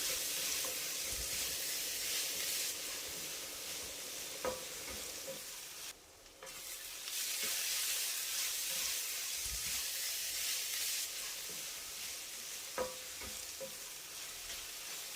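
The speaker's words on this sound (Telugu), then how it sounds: "ఇప్పుడు ఆయిల్లో వేసుకుని వేయించుకోవాలి" Onions fry in oil for an Andhra-style crab curry, a continuous close sizzle with occasional spoon clinks and stirring scrapes and a brief quiet dip midway.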